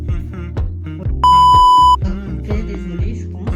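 Kitchen timer beeping in a steady electronic tone for under a second, cutting clearly over ongoing cooking sounds while a catfish and vegetable dish is prepared.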